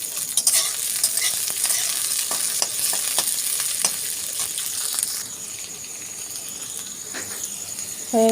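Chopped onion and four green chilies frying in a pan, a steady close sizzle with sharp scraping stirs and clinks of a spatula, easing to a softer hiss toward the end.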